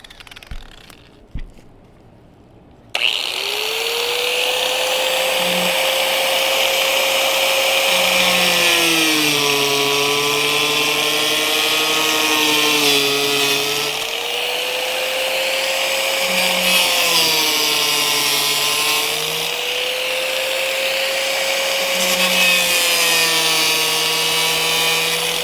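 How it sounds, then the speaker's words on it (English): A power jigsaw cuts a vent fan hole in the metal body of a van. After a brief quiet start, it gives a loud, continuous buzzing whine whose pitch rises and falls slightly as the blade works. "and then I'll finish it off with the jigsaw."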